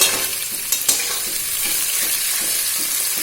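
Chopped onions stirred and fried in hot oil give a loud, steady close sizzle, broken by a few quick scraping stirs near the start.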